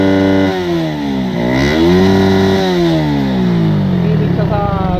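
A motorcycle with a stock engine, stock CDI and a 28mm carburetor revs hard, its close, loud engine note repeatedly climbing and dropping as it bounces against the rev limiter.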